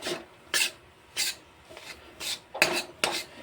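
A spoon scrapes and rasps through mung dal kachori filling in a pan, six or seven steady strokes at a slow, even rhythm, close and moderately loud with no talk.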